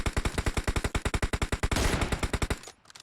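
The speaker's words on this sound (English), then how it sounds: "they just send a triple machine gun down" Sustained automatic gunfire in the mobile battle royale game PUBG Mobile, rapid evenly spaced loud shots in a long burst with a brief denser volley near the end before it cuts off.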